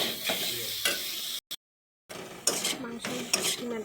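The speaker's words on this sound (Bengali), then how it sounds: "মাংসের কিমাটাকে ভালোভাবে নাড়াচাড়া করে নেব।" Spoon or spatula scraping through minced meat and chopped tomato in a pan for ghugni, with clinks of utensil on metal over a soft sizzle, close and brief, broken by a short silent gap.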